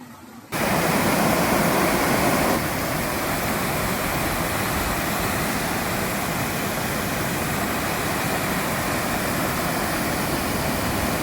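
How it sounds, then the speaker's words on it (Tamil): Loud, constant roar of a fast-flowing river, a dense unbroken rush that begins abruptly and holds at the same level. "தண்ணி எவ்வளோ ஃபோர்ஸாக போகுதுன்னு நீங்களே கேளுங்க"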